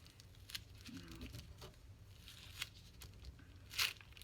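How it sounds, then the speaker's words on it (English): A piece of tape is pulled and torn at a crafting table, soft crinkling and rustling with a sharper rip near the end, faint and close. "let's see if I could take a piece of tape"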